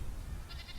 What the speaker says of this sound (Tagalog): Mga kambing na nag-aaway sa pastulan.